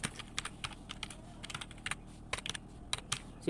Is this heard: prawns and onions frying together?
no